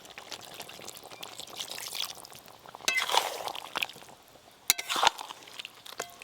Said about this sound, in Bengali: এই যে এবার একটু জল দিয়ে দেব।